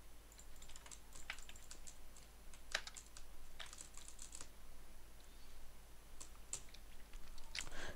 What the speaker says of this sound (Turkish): Klavye sesim, mouse sesim geliyor mu sana?